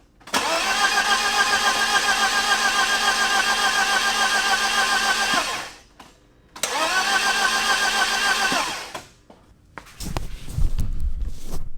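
A BMW E36 318ti engine cranking as it tries to start, the starter whirring in two long bursts of several seconds each, loud and close, the engine not catching, followed by rustling and handling noise.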